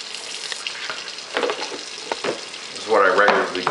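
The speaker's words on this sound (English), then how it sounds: "I'm going to let that bucket fill up to 5 gallons" Hot tap water gushes into a bucket prepared for OxyClean to clean home-brew bottles, a steady splashing rush that swells louder and bubblier near the end.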